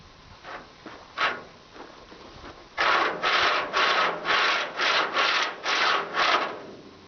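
A heavy chain dragged through the inside of a car's rocker panel, grinding loose rust scale. It starts with a few soft scrapes, then becomes a run of rhythmic, rasping pulls, close and fairly loud, with no talk.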